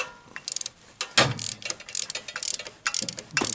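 Ratchet clicks in quick bursts as a 14 mm through bolt on a 2003 Honda Civic alternator is loosened, with close, sharp, repeated ratcheting and a few heavier knocks.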